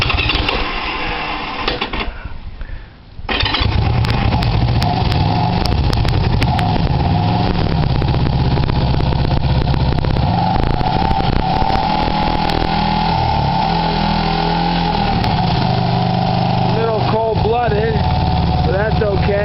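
A motorcycle fitted with a gasoline vaporizer starts on choke and settles into a loud, steady idle close by, after a short cranking gap near the start.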